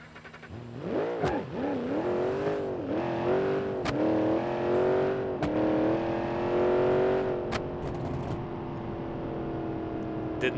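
A car in BeamNG.drive does a burnout on grippier tires, its engine revving hard in rising and falling surges with a steady whining tone, close and loud, with no talk over it.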